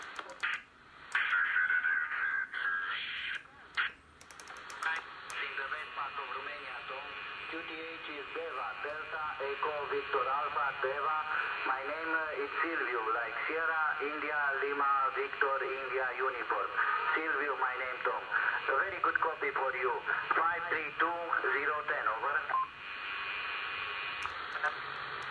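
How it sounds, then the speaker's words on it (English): CB radio chatter on the 11 meter band from a President Lincoln radio: garbled, distorted voices come through a steady bed of static hiss, preceded by a few seconds of noise and beeps. "See what's happening on the 11 meter band."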